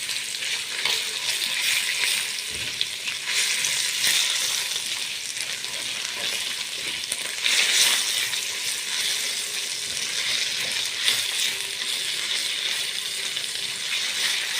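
Tomato paste and a spoonful of sugar fry in a pot with a dense, continuous hiss and crackle. The sizzle stays loud and even throughout, with a few faint scrapes of stirring.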